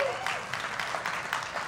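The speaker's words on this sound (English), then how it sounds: "you're clapping, thank you" Church audience clapping during a revival sermon: a brief, continuous wash of applause with a faint voice briefly audible over it.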